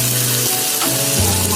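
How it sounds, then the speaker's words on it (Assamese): Sliced onions sizzle steadily in a hot pan with oil, a close, continuous frying crackle without any voices. "এইখিনি অকণমান ৰঙচুৱা হোৱালৈ মই ভাজি ল'ম"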